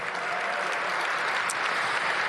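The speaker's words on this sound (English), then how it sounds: "Give them a big round of applause." Dense, steady applause from an audience at a Washington, D.C. public event with the mayor, a close continuous wash of clapping that holds at an even level throughout.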